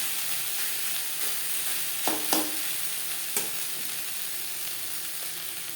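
Banana flower being stir-fried with grated coconut in a pan, a steady close sizzle with occasional scraping strokes of the spatula, no voices.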